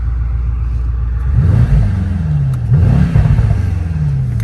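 Mercedes-AMG E63 S sedan engine rumbles deep and close, swelling in two short revving bursts with rising and falling pitch over a steady low idle.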